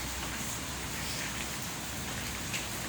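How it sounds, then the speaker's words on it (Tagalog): Steady heavy rain pours without pause, a dense, even hiss of drops drumming on surfaces with no voices. "grabe yung ulan hanggang ngayon"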